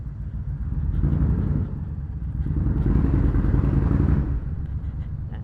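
A heavy Honda Fury 1300cc cruiser motorcycle engine roars nearby with a deep, pulsing exhaust note, rising and falling as the throttle is worked.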